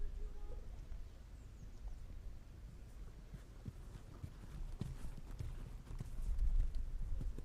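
Horse hooves on an arena surface during an eventing dressage walk test, a steady soft clip-clop rhythm of footfalls at moderate distance over a low background hum.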